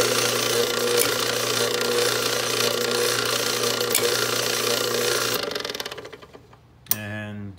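Worn-out old electric door opener motor running hot, a close buzzing, rattling drone that holds steady for several seconds, then winds down and stops with a brief clunk and short rattle.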